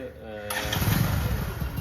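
A Bajaj Discover 125 motorcycle engine cranks and catches, then runs in a rough, loud idle close by.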